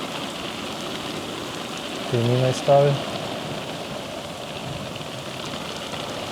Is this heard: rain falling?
yes